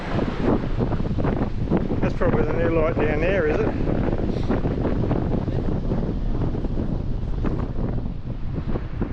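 Strong gusty wind on the Great Ocean Road coast between Cape Otway and Princetown buffets the microphone throughout, roaring and rumbling, while people speak briefly over it.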